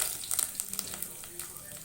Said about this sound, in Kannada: ನೋಡಿ, ಈಗ ಎಣ್ಣೆ ಕಾದಿದೆ. ಈಗ ಇದಕ್ಕೆ ನಾನು ಕರಿಬೇವಿನ ಸೊಪ್ಪು ಹಾಕ್ತಿದ್ದೀನಿ